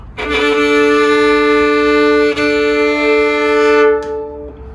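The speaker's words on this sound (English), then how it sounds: "Every note played on a Hardanger fiddle is what is called a double stops," A Hardanger fiddle double stop, a sustained bowed chord of two pitches, drones steadily for several seconds, rich in shimmering overtones, with a brief bow change midway.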